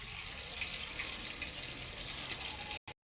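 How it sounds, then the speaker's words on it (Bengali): Water pours into dal simmering in a pan, a soft steady rush mixed with faint sizzling that cuts off abruptly near the end. "এবার পরিমাণ মতো জল দিয়ে ভালো করে একটু ফুটিয়ে নেব"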